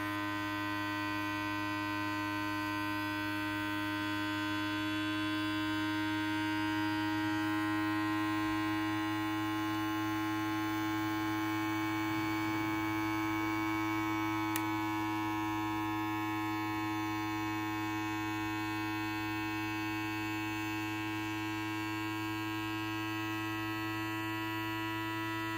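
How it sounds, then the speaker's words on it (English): A vacuum blender's steady electric motor hum drones on without pause while it pumps air out of the carafe, a constant buzzing tone with no voices. "what it's doing now is sucking out all the air in the carafe"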